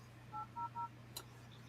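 Three quick keypad beeps from a phone being dialed sound in close succession over a low steady hum, followed by a faint click.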